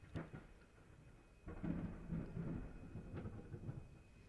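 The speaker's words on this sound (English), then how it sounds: "That's a thunderstorm outside. That was lightning and thunder." Thunderstorm outside with lightning and thunder: faint distant rumbles and a low rolling boom building midway, with a soft steady background of rain-like hiss, no talking.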